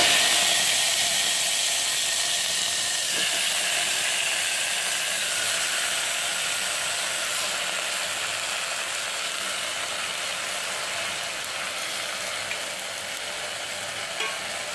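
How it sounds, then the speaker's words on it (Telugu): Sorrel leaves frying in hot oil in a pan, a loud, steady hiss and sizzle that holds constant throughout and slowly eases slightly, with no talking over it. "బాగా ఆయిల్లో ఫ్రై అవ్వాలి మొత్తం."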